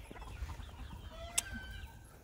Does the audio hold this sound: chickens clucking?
yes